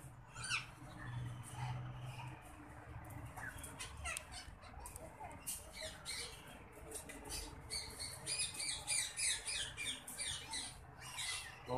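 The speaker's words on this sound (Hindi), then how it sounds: "ये भी होते हैं सरमई तोते, अफ्रीकी सरमई तोते" An African grey parrot at Lahore zoo gives repeated harsh squawks and chattering calls. They build toward the end, heard at moderate distance over steady outdoor background noise.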